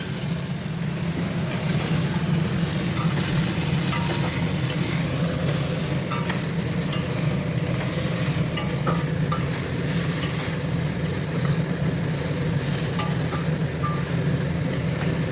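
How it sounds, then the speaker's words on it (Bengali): Spice paste stir-fried in a pan for a pumpkin-greens and small-shrimp dish, a loud continuous sizzle with steady scraping strokes and faint clinks, close up, with no talk over it. "মশলাটা দিয়ে ভালো করে কষাতে হবে।"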